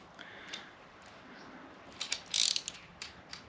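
A ratchet tightens a brake pipe flare tool fitting on a Porsche Boxster 986, giving quiet clicking bursts that grow louder and denser toward the end.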